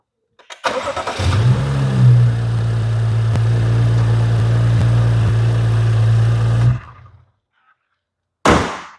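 A 2013 BMW 640i Gran Coupe engine cranks and catches, then settles into a steady, loud idle for several seconds before cutting off, with a brief thump afterward.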